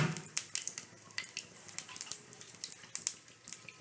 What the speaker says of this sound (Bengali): এবার ফোড়নগুলো দিয়ে দিলাম, জিরে, তেজপাতা আর শুকনো লঙ্কা ফোড়ন।